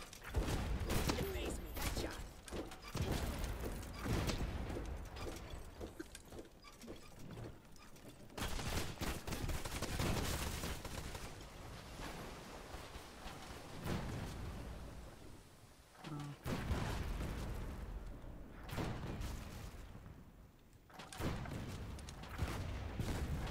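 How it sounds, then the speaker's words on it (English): Ship cannons booming in the pirate naval game Blazing Sails, repeated heavy blasts and rumbling volleys in irregular bursts, loud and close, with brief quieter gaps between salvos. "Fire the cannon and defend the front."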